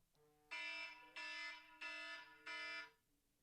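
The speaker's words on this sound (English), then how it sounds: "that was the first timer" A timer alarm goes off with four evenly spaced electronic beeps, each about half a second long, clear and close in an otherwise quiet room.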